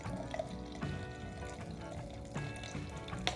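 Warm water is poured into a bottle of dog grooming shampoo, a steady close liquid fill with a gurgling, rising-pitch tone and brief splashy surges, continuous throughout with no talking.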